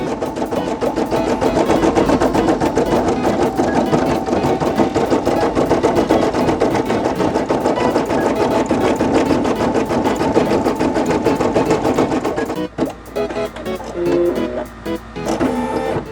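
A Brother PE800 embroidery machine stitching a Super Mario design onto a bucket hat, running with a loud, fast, continuous mechanical whirr and needle rattle that stops near the end, leaving a few brief clunks.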